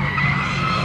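Race car pulling away from the line at a drag strip, its tires skidding in a steady, loud screeching roar with engine drone underneath, held for under a second.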